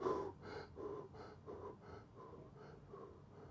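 A voice imitates the heavy, rapid panting of a worn-out footballer, a run of about eight harsh gasping breaths in a steady rhythm, close and loud, with no other talk.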